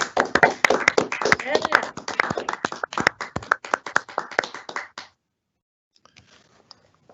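Applause for staff excellence award recipients at a college awards ceremony, a small group clapping in an uneven, crisp patter with one voice mixed in, stopping abruptly about two-thirds through, followed by near silence.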